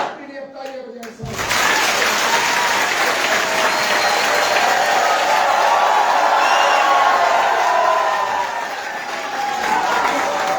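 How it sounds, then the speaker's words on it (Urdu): After a brief quiet lead-in, a large crowd at a political ceremony in Multan bursts into loud, sustained clapping with scattered cheers and whoops, holding steady for several seconds before easing slightly. "میری اب تالیاں بجائیں ساتھ"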